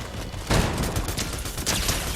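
A burst of rapid automatic Kalashnikov rifle gunfire in Fortnite, loud and close, rattling for about a second and a half with sharp repeated cracks.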